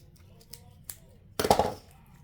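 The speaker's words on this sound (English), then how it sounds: "I'm just gonna take my scissors." Scissors snip through material at close range, a dense, sharp burst of cutting after a few faint handling clicks.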